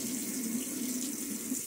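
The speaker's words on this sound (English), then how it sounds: "And so now let's get that splash of water." Running water from a bathroom faucet pours steadily during a wet shave, a close, continuous hiss with a low gurgling tone underneath, holding even throughout.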